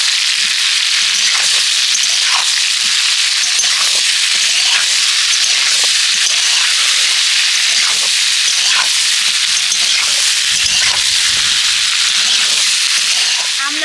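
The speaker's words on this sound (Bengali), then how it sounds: "এবার আমি ছাড়িয়ে রাখা আমলকিগুলো তেলের মধ্যে দিয়ে দিচ্ছি আমলকিটা তেলের সাথে এইভাবে একটু মেরে ফেরে ভেজে নেব" Peeled Indian gooseberries (amla) fry in hot oil in a pan, giving a steady, loud sizzle and crackle that fills the whole stretch, with small pops and stirring scrapes and no talking.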